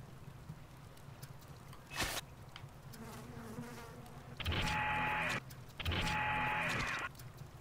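Insect buzzing in the BioShock video game, a low droning hum that swells into two loud sustained bursts of dense buzzing near the end.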